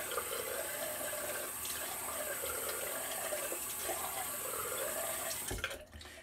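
Running water from a tap splashes steadily into a sink as a razor is rinsed during a wet shave, then cuts off abruptly near the end.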